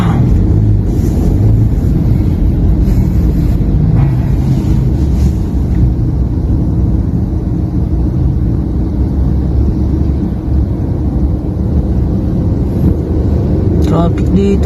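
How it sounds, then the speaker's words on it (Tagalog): Loud, steady road traffic rumble in the city around Ortigas, with engine drone and wind buffeting the microphone throughout, heard from inside or beside a moving vehicle. "Traffic dito."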